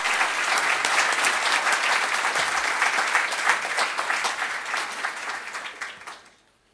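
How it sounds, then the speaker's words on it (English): An audience at a software engineering conference keynote applauds warmly, a dense, sustained wash of clapping from a large crowd that holds steady and then fades out. "Please join me in welcoming him with a applause."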